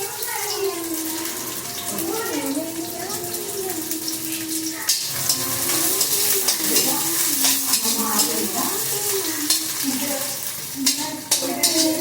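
Onion and green chili sizzle in hot oil in a home kitchen, a steady broadband frying hiss under a voice explaining the cooking, with occasional stirring clatter.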